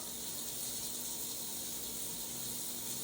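A peeled boiled egg rinsed under a running tap, a steady even rush of water splashing close by without a break and no voices.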